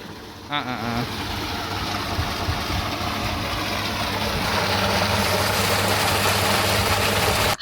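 A motor-driven water pump runs on a papaya farm in Jaffna, a steady, loud mechanical drone that holds continuously close by and grows slightly louder toward the end.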